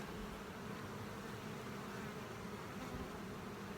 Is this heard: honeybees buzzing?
yes